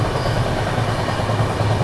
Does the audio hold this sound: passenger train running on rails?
yes